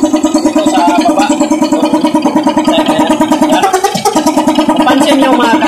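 An SDLG loader engine runs close up with a steady, rapid knocking beat, loud and even, with one brief dip in the rhythm before the pounding resumes.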